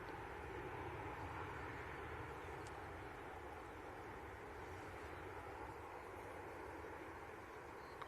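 A TUI passenger jet departing Manchester airport, heard as a steady, distant broadband engine roar that holds at an even level throughout without any voices.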